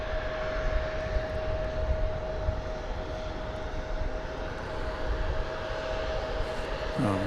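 A jet airliner arriving from Austin comes in at DFW airport, its engines giving a steady, moderately distant broadband roar with a constant whine throughout.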